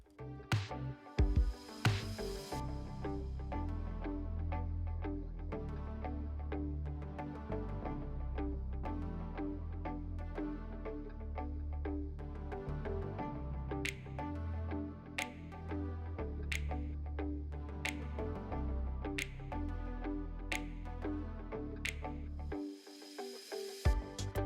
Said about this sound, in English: what I'm going to use this regular little saw that I got at the Dollar Tree. Works perfectly because this wood is quite thin